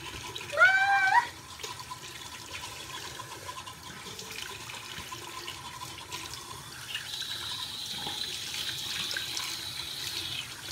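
Hot water runs steadily from a bathroom tap as a face is washed, a continuous hiss with a brief louder splash near the start and no talking.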